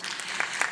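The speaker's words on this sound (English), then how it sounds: "I'm hoping you are clapping for the book" A conference audience breaks into applause, a brief, steady wash of many hands clapping with a couple of slightly louder bursts.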